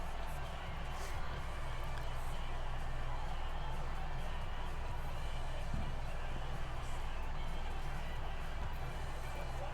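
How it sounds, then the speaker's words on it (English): Steady, dense crowd roar fills a domed stadium in Madden NFL 20 as the Cowboys face the Saints on third and goal, a constant loud wash with no break or clear peaks. "The crowd here in the dome making things difficult."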